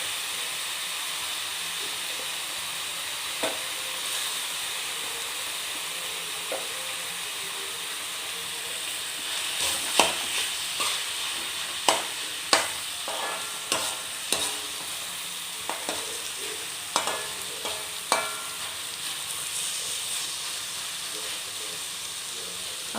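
Mashed potato fries in an oiled pan with white sesame seeds, giving a continuous hissing sizzle, and spatula scrapes come more often in the second half; faint talk sits under the frying.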